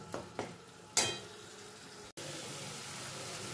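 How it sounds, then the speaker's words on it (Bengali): Spiced masala paste frying in oil while being stirred, a soft sizzle with a few scraping stirs and a sharp clatter early on, fairly quiet overall. "আমি এটা ততক্ষণ কষবো যতক্ষণ না এর থেকে তেল রিলিজ করে"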